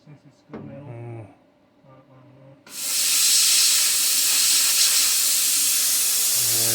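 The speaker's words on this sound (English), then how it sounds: "Let's torch there on that floor pan too." A JEGS plasma cutter cuts into a steel car floor pan, starting suddenly as a loud, steady, close rush of hissing that holds to the end, after a few quieter clicks and low hums.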